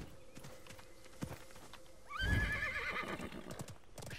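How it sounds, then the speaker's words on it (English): A horse neighs with a long, wavering whinny in the video game Realm Royale, heard clearly over soft background game noise and faint hoof clip-clops, fairly close and moderately loud. "I got a horse."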